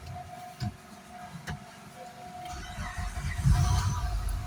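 A 2007-11 Mitsubishi Endeavor's engine cranking and catching after a lost key is programmed, with a few clicks and brief cranking before a low rumbling idle builds toward the end, close and moderately loud.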